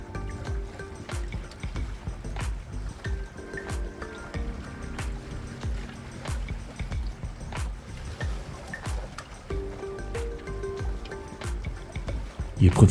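Gentle water splashing and lapping against the hull of a small sailing dinghy under way, soft irregular plashes close by at low level, with faint background noise.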